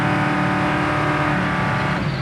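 1968 Chevy Nova V8 engine held at high revs on a road drive, a loud, dense, steady roar heard from inside the car that eases slightly near the end as the transmission shifts.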